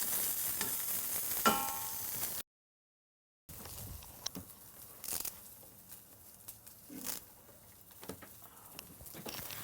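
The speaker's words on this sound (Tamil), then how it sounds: "பச்சை மிளகா, கொஞ்சமாக ஜீரகம், வேறு கருவேப்பிலை. இதை அப்படியே போட்டு பெரட்டிக்கணும் அதை." Green chilli, cumin and curry leaves fry and are stirred in a pan, a faint sizzle broken by soft scraping stirs and light crackles, with a brief dead gap early on and no talk.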